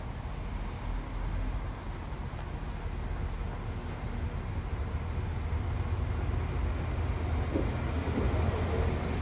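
A train pulls into platform 3 at Lisburn railway station in Northern Ireland, a steady broad rumble that holds and swells slightly as it arrives, with no talking.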